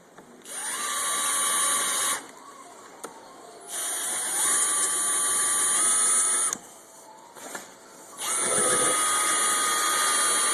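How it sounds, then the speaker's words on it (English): A power drill whines in three long, steady bursts with short pauses between them, close and loud, its pitch rising as each run starts, drilling out a hard part of a Yamaha R6 exhaust system. "Go ahead and drill it out."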